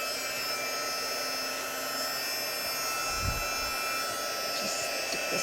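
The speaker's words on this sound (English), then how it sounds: "I'm letting my heat tool heat up a little bit" A heat embossing tool blows continuously with a steady, even airy hum, close and constant, with a brief low bump partway through.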